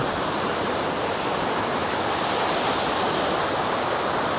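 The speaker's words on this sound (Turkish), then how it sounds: "Arka taraftan su geliyordur. Böyle akıp geçiyor su." Icy cold water rushes steadily past a dam along a stream in Bosnia and Herzegovina, a loud, unbroken roar of flowing water with no pauses.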